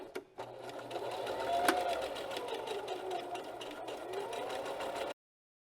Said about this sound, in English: While I have the sewing machine out, I am going to sew these 2 little pieces into some loops.